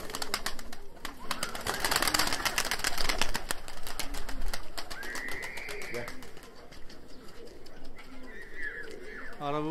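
Abdal Arap pigeons in a coop coo and call repeatedly at close range, with busy clattering and flapping noises mixed in and someone speaking at times.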